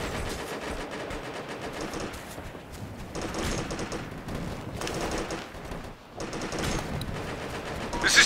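Sustained automatic gunfire in the military shooter Operation Flashpoint: Red River, dense rattling bursts of rifle and machine-gun fire at moderate distance, continuing in waves with brief lulls.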